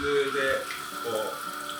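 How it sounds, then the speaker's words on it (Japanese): Warm tap water, about 40 degrees, running from a kitchen faucet to thaw frozen tuna, a steady close splash and flow for under two seconds under faint talk. "約40度ぐらいのぬるま湯がもう流れています"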